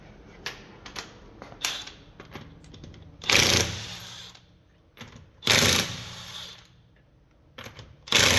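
Ratchet turning a 21mm socket on a wheel of a 2024 Lexus TX during wheel spacer fitting, giving quick clicking runs and a couple of louder harsh bursts, close by with no talk.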